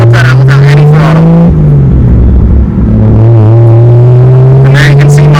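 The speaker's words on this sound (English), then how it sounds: "So there, I'm slipping the clutch out." Toyota Supra with a GR700A transmission pulling away in first gear while the clutch slips: a loud, close engine drone whose pitch climbs steadily, dips briefly, then rises again.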